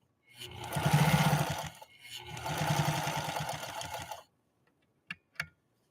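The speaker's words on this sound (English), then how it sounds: "let's sew another straight stitch, see what we get" A 1955 Pfaff 230 domestic sewing machine runs a straight stitch in two close, steady bursts of rapid mechanical chatter, separated by a short pause and followed by a couple of clicks.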